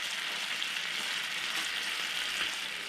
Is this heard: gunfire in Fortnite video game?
no